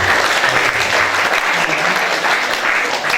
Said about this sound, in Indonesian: Tepuk tangan untuk bapak-bapak kita guru kita